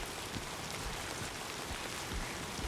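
Steady rain in the video game Death Stranding 2, a continuous dense hiss of falling drops with soft low patter, even and fairly faint throughout, no voices.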